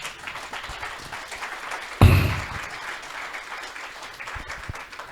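A round of applause for a PR firm founder at a live chat event, steady clapping from a seated audience with a sharp louder burst partway through, then continuing at moderate level.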